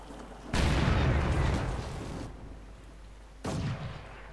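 Flak Panzer 37mm gun firing in the video game Company of Heroes 2: two loud, booming bursts of gunfire, the first long and rumbling, the second shorter, over low game ambience.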